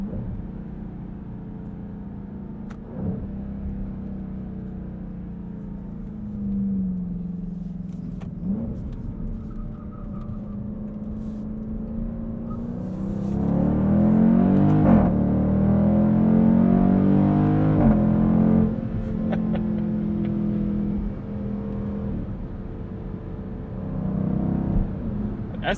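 A 2020 Dodge Durango SRT V8 heard from inside the cabin, engine droning and rising through the revs with quick gear shifts, then surging louder in a hard pull before easing and climbing again.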